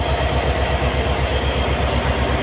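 The Padatik Express passenger train runs in a steady, loud, close roar, with rhythmic wheel clatter over rail joints throughout and no voices.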